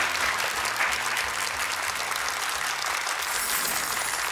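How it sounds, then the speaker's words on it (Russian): A television game-show studio audience claps steadily and densely throughout, a continuous wash of applause with no talking over it. "Проводим их к нашей красной кнопке под аплодисменты студии"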